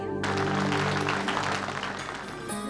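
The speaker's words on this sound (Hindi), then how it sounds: "तालियां।" Applause opens a cultural program, a dense burst of clapping laid over steady music that fades slightly toward the end.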